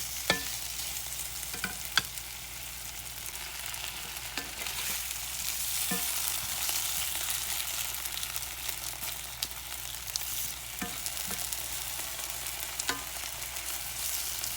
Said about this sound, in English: Now you're going to want to just let this potato cook, and it'll probably take anywhere from 10 to 12 minutes to get it good and fork tender.